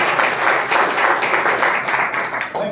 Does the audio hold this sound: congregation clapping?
yes